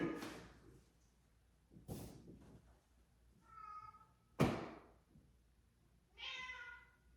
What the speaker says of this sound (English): Or calm down my cat screaming